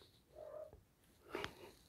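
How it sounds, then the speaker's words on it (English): A pet cat indoors gives a faint, low drawn-out moan, then a short sharp chirp a moment later, both quiet against light room noise. "Can you hear my cat moaning?"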